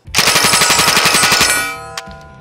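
A sub-machine gun fires one rapid, loud burst of about twenty rounds in under two seconds, followed by a clanking metallic sound and fading echo.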